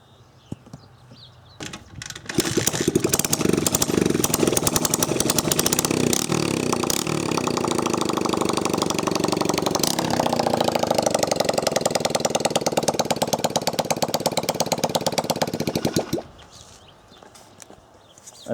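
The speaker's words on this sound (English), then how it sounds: "I just have to see what this thing sounds like without any muffler at all" A 2002 Honda XR100 motorcycle engine runs with no muffler fitted, loud and raw with sharp popping exhaust pulses as it idles and revs for about fourteen seconds, then cuts off.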